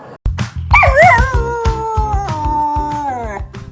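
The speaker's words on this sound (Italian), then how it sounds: "Non senti l'ululato?" A dog lets out a single loud, close howl that rises and then holds a long, wavering tone, with a rhythmic low thumping beat underneath.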